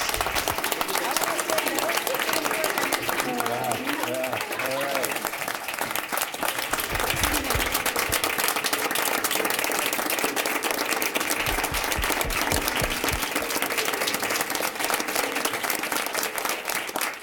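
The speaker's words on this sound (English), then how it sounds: "can we have another round of applause for all of our speakers?" An audience at a youth speaking event gives the speakers a sustained round of applause, loud and continuous with dense clapping, while a voice briefly speaks over it.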